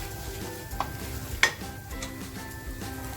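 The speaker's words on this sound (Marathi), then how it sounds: "मंद आपला मसाला असा छान परतवून झालेला आहे" Ground onion masala slowly sautéed and stirred in a pan for a garlic surmai fish curry, a low steady sizzle with a couple of light scraping clinks of the spoon against the pan, close and unaccompanied by speech.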